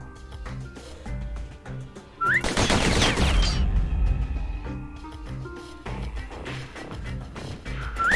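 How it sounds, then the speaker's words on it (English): Customized pistols fire in a Bastion video game gun challenge, rapid bursts of gunfire over looping game music, with a louder sustained volley in the middle. "The slingers like to edge each other out using customized pistols."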